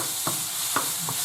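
Onion, garlic and spices get stirred in a hot pan, three distinct scraping strokes of a spoon over a low sizzle.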